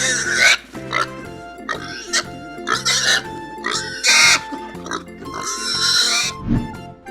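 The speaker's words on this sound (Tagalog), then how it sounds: "Pig." Pig oinks and grunts in a farm-animal sound sequence, several short bursts of varying length spread across the clip, fairly loud and close, with no talking over them.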